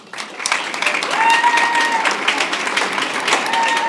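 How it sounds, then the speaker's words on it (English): Applause for student mariachi musicians and singers at a school board meeting rises quickly into full, sustained clapping from the room, with a few brighter tones and murmurs mixed into the steady crowd noise. "Please give a big round of applause to the student musicians and singers"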